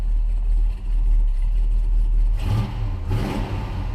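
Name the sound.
1966 Chevrolet Impala wagon engine idling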